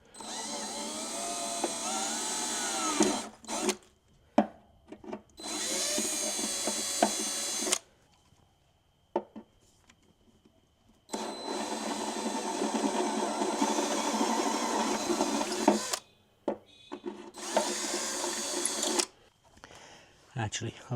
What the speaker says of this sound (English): Always dead nervous about drilling into boats.